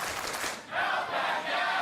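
A wrestling crowd roars and cheers for a wrestler, a broad wash of voices that dips briefly and then swells again, loud and sustained.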